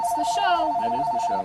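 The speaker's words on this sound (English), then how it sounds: "and that's the phone. Yeah, that's been going off." A telephone rings with a steady electronic tone during a comics talk show, heard under a person speaking.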